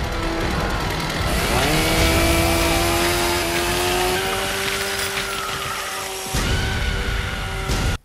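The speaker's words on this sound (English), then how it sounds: "we see Leatherface revving that saw." A chainsaw revs in a horror film scene, a loud sustained engine whine that rises in pitch and holds, then drops out briefly before a final burst.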